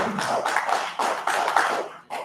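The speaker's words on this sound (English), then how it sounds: "give yourself a round of applause" An audience at a Rotary Club meeting claps together in a dense, sustained wash of applause that fades briefly before a last flurry, with no talking.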